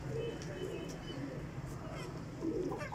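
Soft, repeated cooing comes from a fancier's high-quality flying pigeon held close by. The low, rolling calls pulse through the clip under steady background noise and someone talking.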